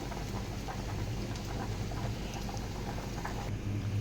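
Cauliflower simmers in a pot of water, a steady close bubbling and popping patter that continues without a break and with no voices.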